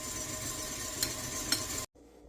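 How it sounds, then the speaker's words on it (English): An electric mixer whirs steadily while beating egg whites for chile rellenos, with two brief clicks partway through, then the motor cuts off abruptly, leaving quiet room tone. "while your egg whites are beating"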